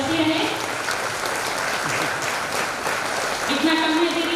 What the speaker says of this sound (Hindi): उनके लिए तालियां बजती रहे।